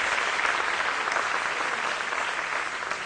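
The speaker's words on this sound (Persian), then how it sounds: "واقعا یه بار دیگه تشویقش کنید." A concert audience claps steadily, a dense even wash of applause held at a constant level. It comes from a large crowd, with no voices above it.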